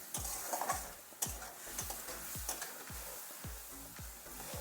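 Lotus stem sautéing with cumin and coriander powder in a pan, a soft sizzle under a steady series of spatula scrapes and taps against the pan, close and unaccompanied by speech.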